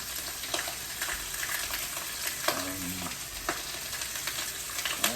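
Steady sizzling and crackling of chicken frying in a pan over medium-high heat, with scattered pops and a brief scrape of stirring partway through.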